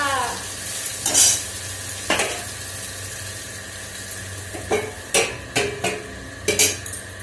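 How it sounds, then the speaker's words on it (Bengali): Potatoes fry in a pan with a steady low sizzle while a utensil stirs and scrapes, giving several sharp clinks and scrapes spaced through the clip, close by with no talk. "এই যে আলু ভাজা বানাচ্ছি"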